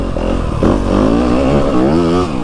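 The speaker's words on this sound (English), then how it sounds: "The way this bike goes through the woods is just amazing." A 2025 Yamaha YZ250FX dirt bike revs loudly and close up while riding through woods, its engine pitch rising and falling in continuous waves for the whole stretch.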